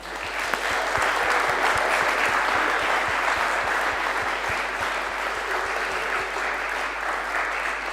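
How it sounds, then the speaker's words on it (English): Sustained, dense applause from a large audience, loud and steady for the whole stretch with no break. "So let's do a massive round of applause for all of them."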